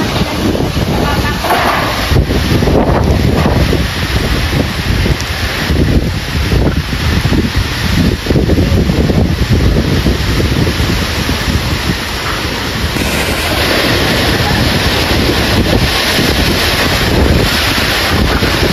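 Strong typhoon wind roars continuously against the microphone, loud and buffeting throughout, with a steady high whine and rushing gusts; a voice is faintly present under the noise.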